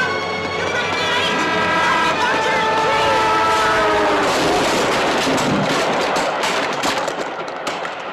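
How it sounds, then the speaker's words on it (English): A Midland Pullman train passes close by with a loud, continuous rumbling roar and a sustained horn-like tone that bends in pitch, fading slightly toward the end. "the Midland is the train that happens to hit it"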